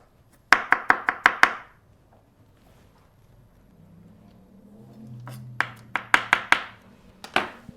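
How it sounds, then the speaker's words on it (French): A knife finely minces a peeled garlic clove on a cutting board, two quick runs of five or six crisp chops separated by a quieter pause with light background noise. "Et on va l'émincer très finement."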